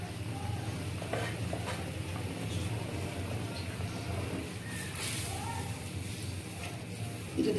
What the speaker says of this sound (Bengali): তাই আমি একটু বেশি পরিমাণে পানি দিয়ে দিব।